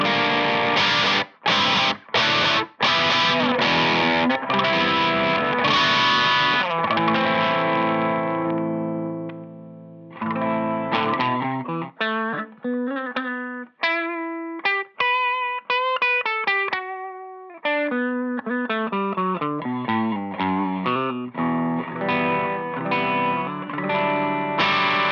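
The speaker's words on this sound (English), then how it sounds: "this is the Celestion Vintage 30 impulse response they've just released" Electric guitar played through a Celestion Vintage 30 speaker impulse response on an iPad, starting with sustained distorted chords and stabs, then a run of clean picked single notes and a melodic line, returning to thick chords, loud and close without talking.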